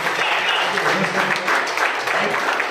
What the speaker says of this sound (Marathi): आमचे चॉकलेट हिरो मिस्टर श्याम सरांसाठी एक जोरदार टाळ्या झाल्या पाहिजे.